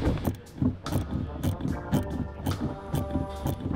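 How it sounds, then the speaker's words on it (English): A 14 millimeter wrench works loose the top nut on a car shock, producing a close, regular series of sharp ratcheting clicks roughly twice a second over a low background hum. "we're gonna use a 14 millimeter to get that top nut loose"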